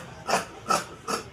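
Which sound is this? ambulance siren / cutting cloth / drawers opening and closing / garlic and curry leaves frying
cutting cloth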